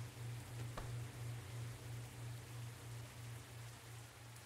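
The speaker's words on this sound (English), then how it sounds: "I just hate when you work in the rain." Steady hiss of rain falling, with a low constant hum underneath and a brief faint knock near the start; no voices.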